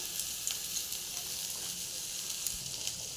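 Vegetables fry in a pan after turmeric is added, making a soft, steady sizzle with light crackles, heard close and fairly quiet.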